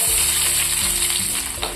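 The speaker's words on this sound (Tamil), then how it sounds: "எண்ணெய் நல்லா சூடாயிடுச்சு ஒரு நாலஞ்சு சின்ன வெங்காயம் எடுத்து இந்த மாதிரி நறுக்கி வச்சுருக்கேன் இதை சேர்த்துக்குவோம்" Loud, close sizzling as chopped small shallots hit hot oil for fish masala, a bright steady crackle with a few stirring knocks.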